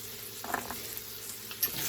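Flour stirred into a hot pan with fond for country gravy gives a soft, low sizzle with scattered scraping and stirring clicks, quiet and close, with no talking.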